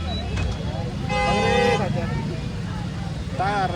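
Congested traffic on the road to Matheran, kilometres of stalled vehicles, with a steady engine rumble, several short car horn toots, and a longer honk near the middle and again at the end.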